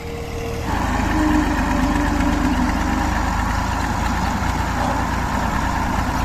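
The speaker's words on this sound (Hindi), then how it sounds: "अभी अबू जी ने ट्रैक्टर जो है वो लेके आए हैं" A tractor engine runs steadily nearby on a farm field softened by harrowing, a continuous mid-low idling drone that rises in level after the first moment and holds without talk.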